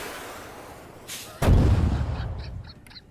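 Arma 3 combat: a faint burst of gunfire followed by a sudden heavy explosion that booms loudly, then rumbles and decays over the last second and a half.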